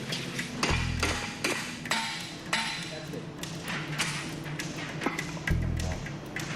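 Sharp metal hammer strikes ring out at an irregular pace on the welded stabilizing brackets and pivoting hubs of a homemade wind turbine, close and fairly loud, with a few heavier thuds mixed in.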